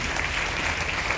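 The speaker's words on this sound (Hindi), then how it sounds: "एक जोरदार ताली होना चाहिए।" An audience at a DXN presentation gives a loud burst of dense, continuous clapping that fills the whole moment, with no talk over it.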